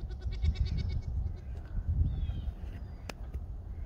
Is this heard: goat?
yes